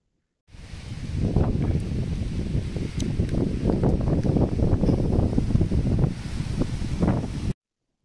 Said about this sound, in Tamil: ஸோ காற்றும் மழையும் பயங்கரமா இருக்குங்க